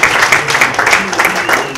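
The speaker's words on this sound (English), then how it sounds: "thank you very much for applause" Applause from a symposium audience at a transitional justice policy event, moderately loud clapping spread across the room with a voice speaking over it.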